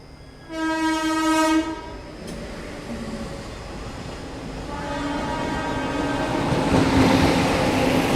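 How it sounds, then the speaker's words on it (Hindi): The Punjab Mail express train overtakes on an Indian railway line, sounding a loud, long horn blast before its passing rumble and wheel clatter build steadily. "पीछे से आ रही है पंजाब मेल जो कि हमें यहाँ ओवरटेक कर रही है"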